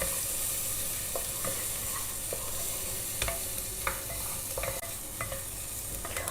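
Garlic, torn dry red chilies and onion roast in a pan with a steady, close sizzle, punctuated by scattered scrapes and taps of a stirring spoon.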